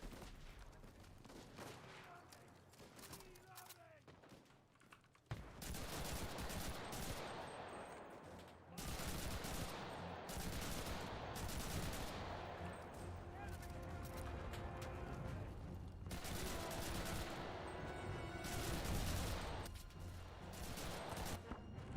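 Gunfire in the video game Enlisted, loud, dense bursts of shots and blasts, mostly continuous after a quieter opening, with voices mixed in.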